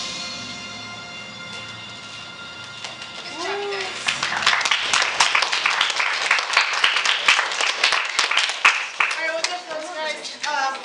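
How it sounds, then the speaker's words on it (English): A roomful of people bursts into sustained clapping after a panel on water activism, dense and loud for several seconds, with a few voices and brief vocal sounds rising through the applause near the end. "Let's give one big round of applause for everybody that presented in here today."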